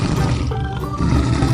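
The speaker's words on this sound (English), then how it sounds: "Lion." A lion's roar, loud and close, one sustained rumbling call with a second surge near the end, alone without talk.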